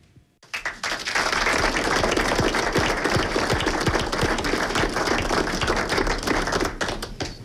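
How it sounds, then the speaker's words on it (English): A room erupts in sustained applause as the Jacksonville mayor signs a package of pension reform bills, with dense steady clapping from a crowd that starts abruptly and continues throughout. "applause filling the room as the mayor signs this package of bills"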